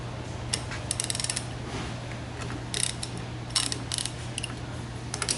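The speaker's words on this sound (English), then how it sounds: "we're going to loosen these bolts" A ratchet wrench loosens bolts on the valve of a Hanbell piston compressor, giving irregular clusters of quick metallic clicks over a steady low electrical hum.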